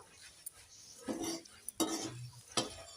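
Puffed rice namkeen is dry-roasted and stirred in a pan, giving soft rustling, scraping strokes that come in several separate bursts, faint and close, with no talk.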